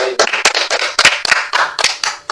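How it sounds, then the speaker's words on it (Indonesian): A group claps after a coaching practice session in a school supervision training; loud, close, irregular claps in quick bursts fill the whole stretch. "Beri aplaus untuk kegiatan praktek coaching kali ini"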